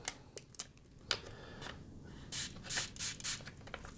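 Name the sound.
liquid spray bottle spraying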